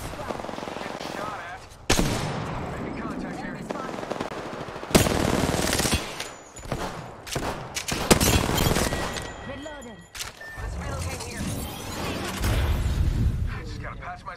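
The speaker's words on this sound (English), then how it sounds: "Getting shot at." Dense bursts of automatic gunfire and single shots in the battle royale game Apex Legends, loud and chaotic over about fourteen seconds, with explosive impacts and voices talking in between.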